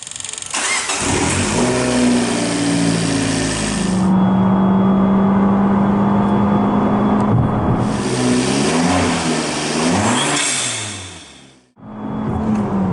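A Fiat Abarth with a cold air intake and about 20 pounds of boost revs hard and close, climbing to a sustained high-rpm redline roar, dropping, rising again through a few rev swings, then cutting off sharply before the engine catches once more.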